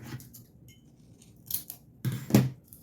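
Scissors snip sublimation paper wrapped around a mug in a few short, close cuts with a crisp metallic edge, the last cut loudest, with no talking.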